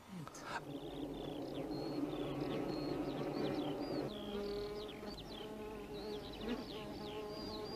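Honey bees buzz steadily in a hive, a dense continuous drone with brief chirpy tones over it, while a narrator speaks over the sound.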